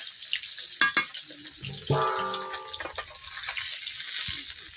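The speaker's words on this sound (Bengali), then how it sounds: "এভাবে উল্টে পাল্টে আমি ভেজে নিচ্ছি মাছগুলো" Pangas fish pieces fry and get turned in a pan, with a steady bright sizzle, sharp clinks from a utensil, and a brief bubbling burst partway through, close and without speech.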